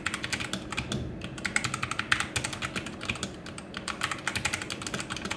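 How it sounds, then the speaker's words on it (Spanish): Typing on a T-Dagger gaming keyboard with Brown switches gives rapid, close-up clacky keystrokes in an uneven steady stream with no talking. "vamos a pasar a un test de sonido para que veas y escuches cómo suena este teclado con switches Brown en ASMR"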